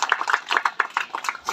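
A crowd claps loudly and continuously at a wedding ceremony in Dolma, Phulbaria, Mymensingh. The quick, dense, overlapping claps come through close and steady, with no pauses.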